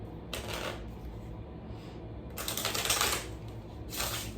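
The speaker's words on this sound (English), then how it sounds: "It's nice to get a good shuffle like that, but it's hard to do that with some tarot cards." A standard 52-card deck of playing cards is shuffled in close, crisp riffling bursts, two main runs with a shorter one at the end, with quiet gaps between them.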